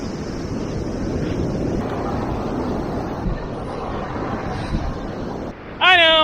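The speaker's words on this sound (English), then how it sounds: "the waves here are really intense" Intense ocean waves and surf wash steadily onto a beach with a continuous broadband roar and wind noise throughout, ending in a brief loud tonal burst at the close.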